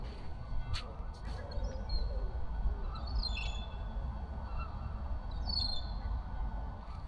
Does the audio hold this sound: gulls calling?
yes